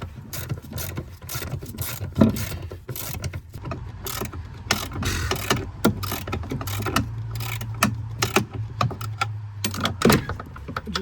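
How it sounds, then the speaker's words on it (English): Parking brake being released on a Ford V10 Super Duty truck, a close run of mechanical ratcheting clicks and clunks with a low steady hum beneath, no talk. "I just released the parking brake on myself."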